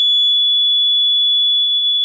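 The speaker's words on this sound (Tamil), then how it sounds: "இப்போ அந்த அட்டையில் கிளிப்புக்குள்ளே இருக்க அட்டையை எடுத்தோன்னே பீப் சவுண்ட் கேட்கும்" A homemade safety door alarm gives a steady, piercing electronic beep that holds one unbroken pitch, loud and close.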